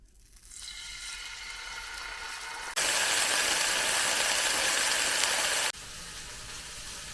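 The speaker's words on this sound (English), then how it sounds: "And then we're gonna sear our fish." Sheep's head fish searing in hot coconut oil in a cast iron pan gives a steady loud sizzle that jumps louder midway, then eases back to a softer frying hiss.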